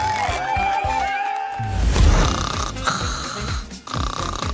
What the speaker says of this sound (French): Elle ronfle?